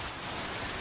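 Steady rain falls in the Don't Starve video game, a dense continuous hiss of drops on the ground with no thunder or voices, even in level throughout the brief stretch.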